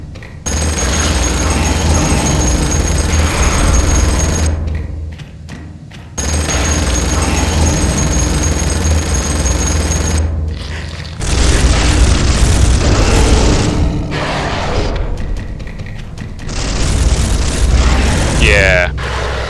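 A chain gun in the Space Hulk video game fires in long, loud rattling bursts separated by short pauses, with a player's excited voice mixed in.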